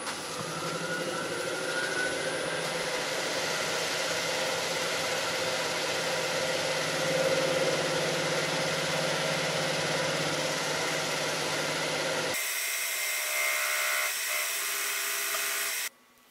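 Steel wool and then a Scotch-Brite pad pressed against a honey locust bowl spinning on a lathe, a steady loud whirring scrub with motor drone that shifts in tone near the end, then stops abruptly.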